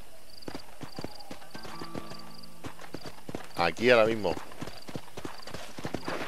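Horse hooves clip-clop at a steady walking rhythm in Red Dead Redemption, crisp and close, joined midway by a loud neigh and a man calling out over the hoofbeats.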